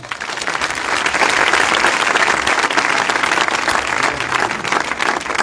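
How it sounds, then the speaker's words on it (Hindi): At a revival night gathering in Chak AmratNagar, Mian Chano, a congregation gives loud, sustained applause, thick continuous clapping from a large crowd that holds steady and strong for several seconds. "आइए उसके लिए जोरदार ताली।"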